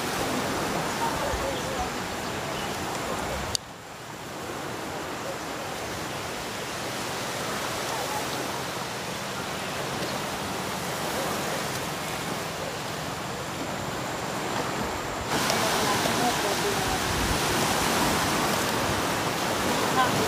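Strong sea waves roll onto a beach in a constant loud, broadband wash that swells a little near the end, with a voice speaking faintly at times under the roar.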